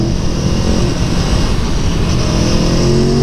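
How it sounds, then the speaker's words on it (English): An Aprilia Tuono V4 motorcycle engine, heard from the rider's seat while crossing double yellow lines, roaring loud and steady throughout with wind rush and no talk. "But I'm on the Aprilia Tuono V4, baby."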